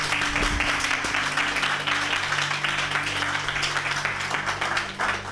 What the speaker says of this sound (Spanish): Cerramos aquí el aplauso